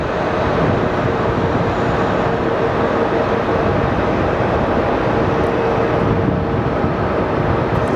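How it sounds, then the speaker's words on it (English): Continuous loud roar of jet airliner engines with Rolls-Royce engines at an airport, a dense steady rush with no breaks, close and powerful. "Look at these powerful Rolls-Royce engines."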